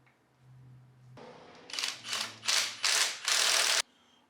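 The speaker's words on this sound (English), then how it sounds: "Always use a torque wrench to torque everything on your suspension to the proper torque settings." A torque wrench ratchets while tightening suspension bolts on a Fox 2.0 or Bilstein 5100 shock. Four or five crisp ratcheting strokes come close and clear, each louder than the last, in a quiet space.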